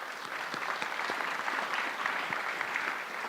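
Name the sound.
audience applause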